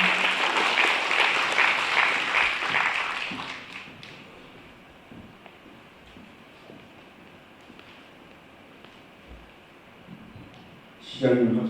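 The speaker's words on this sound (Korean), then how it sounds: "박수로 환영해 주시길 바랍니다" Audience applause welcoming Wonju city council chairman Lee Jae-yong at a formal lecture event, a dense burst of clapping that fades away after a few seconds, leaving quiet room tone before a brief louder noise at the end.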